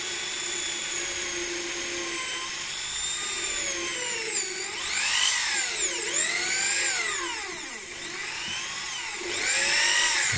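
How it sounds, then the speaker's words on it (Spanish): A power drill bores into wood during the fabrication of a wooden sissy bar, its close, continuous motor whine repeatedly dipping and rising in pitch as the load changes, with no talking over it. "Pero baja el taladro"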